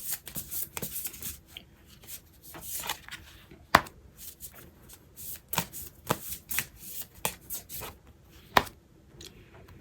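Tarot cards being handled and turned over make dense, close papery flicks, slaps and shuffling rustles that run almost continuously in quick irregular bursts.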